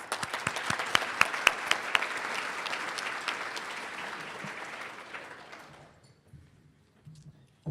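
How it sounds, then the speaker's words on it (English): An audience at an education awards ceremony claps in a sustained burst of applause for student winners, with a few crisp individual claps, then fades out to near quiet, followed by faint murmurs. "let's give one final round of applause for all of our student winners."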